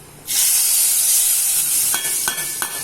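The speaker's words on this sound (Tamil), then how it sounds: "கடுகு நல்லா பொரிஞ்சிடுச்சு. வாங்க குழம்புல தாளிப்பு போட்டுடலாம்" Mustard-seed tempering poured into kara kuzhambu, a loud, steady sizzle bursting in and holding, with a few sharp crackles and pops near the end.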